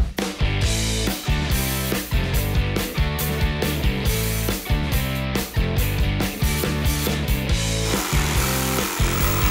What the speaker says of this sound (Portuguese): Comecei fazendo um furo para poder entrar a serrinha da tico-tico e fazer todo o contorno